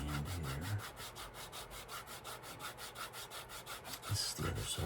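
A leather wallet is hand-sanded with 220 grit sandpaper in quick, regular back-and-forth strokes, a close rhythmic scratchy rasp that runs steadily for several seconds before handling noises at the end.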